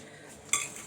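Eggs and sugar are stirred in a bowl. A brief, quiet scrape gives way to a sharp clink of a utensil against the dish.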